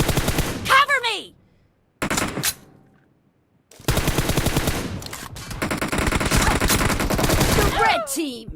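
Automatic gunfire in a PUBG team deathmatch comes in loud, close rapid bursts with two brief silent gaps, then a long sustained stretch of firing, with short in-game voice lines mixed in.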